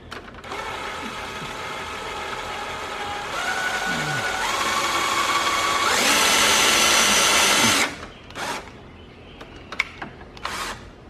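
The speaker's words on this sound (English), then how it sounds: "Help if you drill the right way" A power drill boring into the body of a 2016-2019 Toyota Tacoma, a loud, close, whining run that steps up in pitch and intensity before stopping, followed by a few brief bursts and taps.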